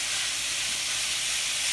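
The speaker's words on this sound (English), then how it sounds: "we're going to just fry this ground beef up with" Ground beef frying in a pan with onions and peppers, a steady, even hiss and sizzle that holds loud and unbroken throughout with no talk.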